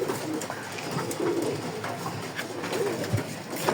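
A pigeon coos in soft repeated phrases close by, over a breezy outdoor background; no talking.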